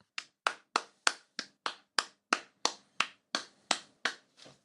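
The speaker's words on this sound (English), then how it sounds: "Is that you clapping for him" A single person gives a quiet golf clap, about fourteen evenly spaced, crisp claps close to the microphone, with nothing else heard.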